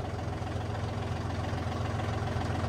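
A tractor engine idles steadily in a muddy grape orchard where the tractor is stuck, a continuous low rumble with a knocking pulse, close and fairly loud, with no voices.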